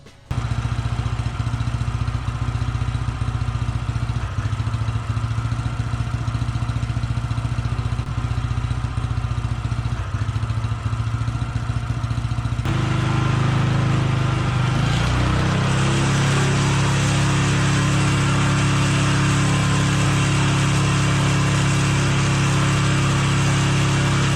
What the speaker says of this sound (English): So now I'll try out the Snowblower exhaust.